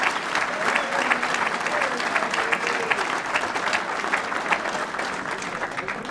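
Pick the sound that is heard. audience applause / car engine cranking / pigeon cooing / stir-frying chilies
audience applause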